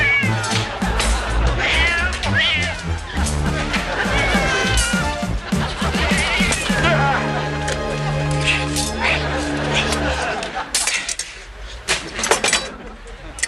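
A cat meows and caterwauls loudly in drawn-out, wavering cries, up close, over a busy background with other voices and noise in a game-like scene.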